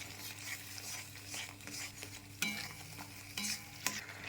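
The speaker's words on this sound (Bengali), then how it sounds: "এবার 1 চামচ কাশ্মীরি রেড চিলি পাউডার দিয়ে ভালো করে মিশিয়ে নেব।" Kashmiri red chili powder being stirred into masala frying in a pan for potato curry, a soft steady sizzle with periodic sharp spoon scrapes against the metal.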